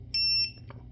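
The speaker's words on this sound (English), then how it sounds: "So it beeped once, indicating that it programmed to it." A CL-01-BT Bluetooth door lock gives a single short, clear electronic beep after programming, followed by a faint click in an otherwise quiet room.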